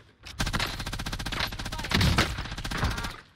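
Video game gunfire from a multiplayer Rebirth match: a continuous, fairly close rattle of rapid automatic shots that lasts about three seconds and swells in the middle, with little talk over it.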